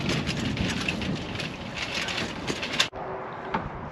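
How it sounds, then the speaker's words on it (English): Strong wind blows outdoors at a tree-planting site, buffeting the microphone with a steady, rushing roar that cuts off abruptly near the end. "it's pretty windy out"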